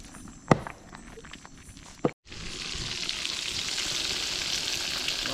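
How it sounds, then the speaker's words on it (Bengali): Fish frying outdoors at a riverside camp in the Andaman Islands: a few knocks and footsteps, a brief cut to silence, then a steady, fairly loud sizzle that carries on alone for the rest of the clip. "মাছটি ভাজা হচ্ছে।"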